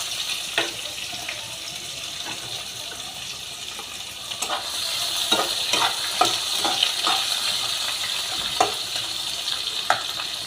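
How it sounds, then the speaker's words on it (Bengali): Onions frying in a pan for a soybean dish, a steady sizzle with intermittent sharp stirring scrapes, close and fairly loud, with no talking. "পেঁয়াজটা একটু ভাজা হোক।"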